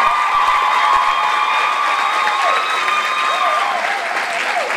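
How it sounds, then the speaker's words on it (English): An audience at a Social Security debate applauds the debaters with loud, sustained clapping and some cheering, a dense even wash that holds steady for several seconds. "Please give them a big round of applause."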